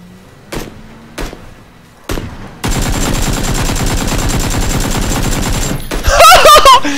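Gunfire in the battle game PUBG: a few isolated shots, then a sustained rapid automatic burst lasting several seconds, loud and close, ending with a clattering, ringing flourish.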